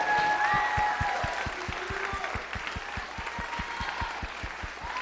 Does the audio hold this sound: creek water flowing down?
no